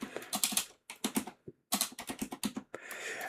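Typing a command on a computer keyboard: bursts of rapid, close, crisp key clicks with short pauses between runs, alone without talk.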